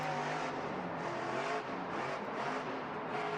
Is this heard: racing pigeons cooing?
no